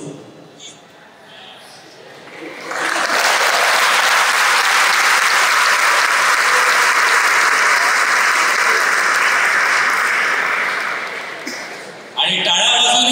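Students at an SGI motivational talk break into loud, sustained applause. It swells after a quiet murmur, holds for about eight seconds, then fades as a voice starts speaking.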